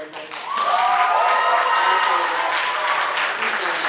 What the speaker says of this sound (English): Give a round of applause to Sarah Nicole Redmond.